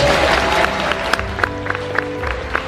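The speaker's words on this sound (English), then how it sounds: "Give him a round of applause." An audience at EXPO 2022 applauds, with steady clapping and a few sharper individual claps standing out over the brief burst.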